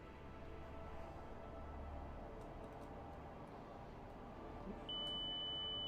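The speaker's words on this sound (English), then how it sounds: "Oh, we got a master alarm." A master alarm in an Apollo 13 spacecraft simulator video game starts as a steady, thin, high electronic tone near the end. It plays over a constant low cabin hum and rumble, fairly faint overall.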